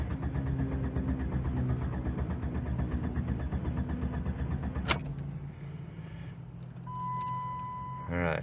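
A Jeep engine at operating temperature cranks with a steady, rapid mechanical churn for about five seconds, then stops abruptly with a sharp click, leaving a quieter low hum and a brief electronic tone before a short renewed burst.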